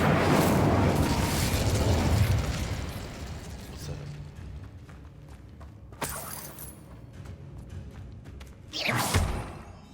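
A Bombarda blasting spell explodes in the Hogwarts video game, a loud rumbling boom that opens the clip and slowly decays, followed by quieter magical crackles and a sharp whooshing burst near the end.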